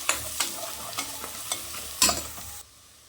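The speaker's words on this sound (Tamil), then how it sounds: "இந்த எண்ணெயிலே நல்லா வதக்கிக்கலாம்" Mutton with masala powder being stirred and sautéed in hot oil for a mutton gravy: spoon scrapes land every half second or so over a soft sizzle, ending abruptly in near silence.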